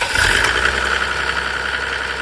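A Mercedes OM603 3.0-litre diesel engine drives an irrigation pump (PN-40), running at a steady, close, loud idle with an even mechanical drone and no talk.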